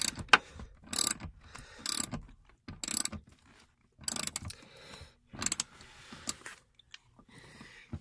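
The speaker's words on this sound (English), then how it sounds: "So I had to get it in place with the ratchet because the seat belt." A ratchet tightens seat bolts while fitting E46 BMW seats into an E36 BMW, with quick bursts of ratcheting clicks repeating about once a second, close and fairly quiet, no voices.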